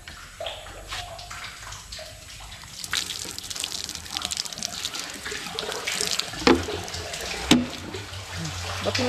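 Water runs steadily into a gallon container, a continuous splashing pour with a few louder clunks near the end.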